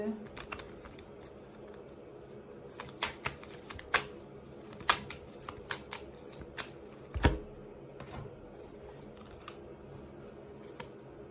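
Tarot cards handled and shuffled during a reading, with intermittent crisp card riffles and slaps, some sharp and close, scattered over a quiet background while a voice speaks.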